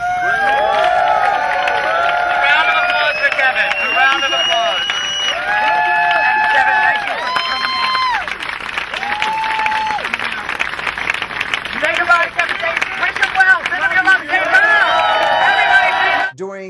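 Loud, sustained applause and cheering from an audience honoring a drag queen performer, musician and DJ, with harmonic shouts and voices overlapping the clapping throughout.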